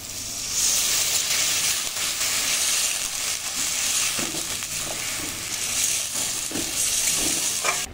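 Water poured into sizzling fried spice paste for a raw mango and potol (pointed gourd) curry, a loud continuous crackling sizzle and hiss with bubbling bursts, close up and steady throughout.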